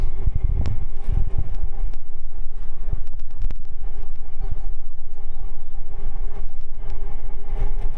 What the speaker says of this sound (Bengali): সুন্দর বাতাস।